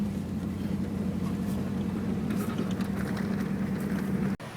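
A four-wheel-drive vehicle drives down a forest logging road, with a steady low engine drone and road rumble heard from inside. The sound cuts off abruptly near the end.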